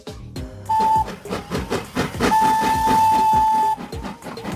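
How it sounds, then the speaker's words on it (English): A Thomas and Friends themed kids' train ride gives a busy chuffing rhythm with clanks, broken by two held whistle-like tones, one short and one long, close and fairly loud. "Thomas train. Based on the Thomas and Friends series from 1945, Thomas trains are themed rides for kids"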